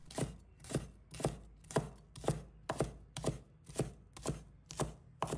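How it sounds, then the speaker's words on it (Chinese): A knife chops the white part of garlic sprouts into short lengths, about eleven sharp, evenly spaced chops close by, with quiet gaps between them. "把蒜白切成小段"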